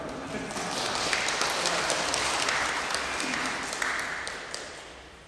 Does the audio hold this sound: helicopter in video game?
no